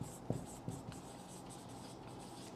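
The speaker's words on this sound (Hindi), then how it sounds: "तो यहां पे हम लिखेंगे" Chalk or marker writing on a board during a chemistry lecture on group 15 hydrides, a faint steady rubbing scratch with a few soft taps near the start, no voice over it.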